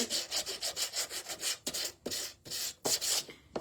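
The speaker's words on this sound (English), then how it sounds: "come in with a little, your sanding block again, or whatever you have, and just give this a sanding" A sanding block rubs back and forth over wood on a rustic Christmas decor piece in a rapid, rhythmic series of close scratchy strokes, each a short rasping burst.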